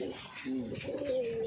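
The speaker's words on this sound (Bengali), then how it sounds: "নর পায়রা একটা।" A male pigeon gives a brief, faint, gliding coo close by, with a little background noise and no talking.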